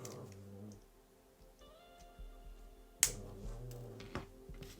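Wire cutters snipping jewelry wire while wire-wrapping a lapis swirl necklace, a single sharp close click amid quiet handling noises and small taps.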